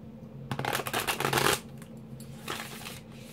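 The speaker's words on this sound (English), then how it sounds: "Let me get one more good shuffle." Tarot cards being shuffled in two quick riffle bursts, a longer one then a shorter one after a pause, close and clear with no talking.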